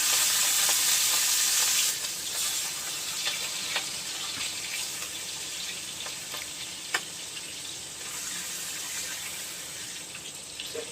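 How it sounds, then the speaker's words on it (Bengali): Prawns sizzle steadily in hot oil in a wok. The hiss is loud and dense, with a brighter burst at the start and then an even, crackling fry throughout with no talking. "তেলের মধ্যে আমি চিংড়িটা দিয়ে দিলাম।"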